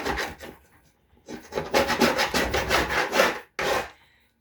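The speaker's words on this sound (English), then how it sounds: "So, yes, it's scraping off." Paint is scraped off a reclaimed wood board in loud, rasping strokes, several long close scrapes separated by brief pauses.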